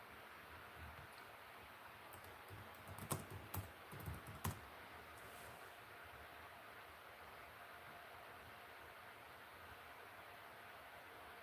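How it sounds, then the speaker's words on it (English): Typing on a computer keyboard comes through faint against a steady background hiss, with a short burst of louder clicky keystrokes in the middle and then only the quiet noise floor. "that's literally what I was typing in"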